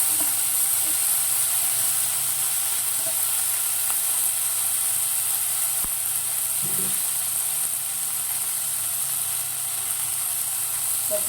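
Mint leaves fry in a pan, a steady high sizzle and hiss held evenly for about eleven seconds, with a few faint clinks of stirring underneath.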